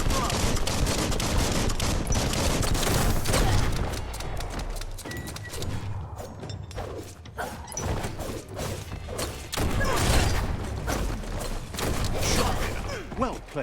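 Heavy gunfire in the Biomutant action game, loud continuous bursts and impacts with thuds and mechanical clatter, easing briefly in the middle before swelling again, with a voice speaking over parts of it.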